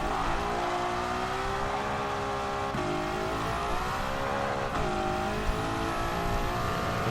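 A 1955 Mercedes racing car in a racing video game drives steadily with a continuous, loud engine drone and shifting pitch, worn tires faintly squealing over about seven seconds.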